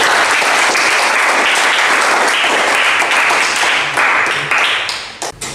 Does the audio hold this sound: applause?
yes